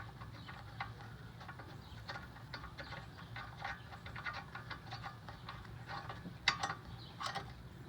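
A wrench works a brake caliper bracket bolt on a 2012–2015 Honda Civic, giving quiet, rapid ratcheting clicks in an irregular series with a couple of sharper metallic ticks near the end.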